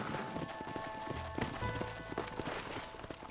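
Horse hooves clop on dirt as riders come to a halt and dismount in the Old West game Red Dead Redemption. Steady close footfalls continue throughout with faint background ambience and no audible talk.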